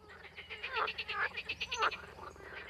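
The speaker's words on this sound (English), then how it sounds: "the males croak with all their force to attract females by swelling their vocal sacs" Green frogs and tree frogs croaking in a loud chorus, males calling with rapid pulsed calls overlapping one another, some nearby and others farther off.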